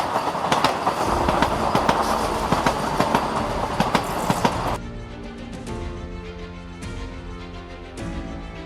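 A high-speed train at 300 km/h rushes past with loud rolling rumble and rhythmic clacks, then cuts to a quieter, tonal mechanical hum with periodic thuds.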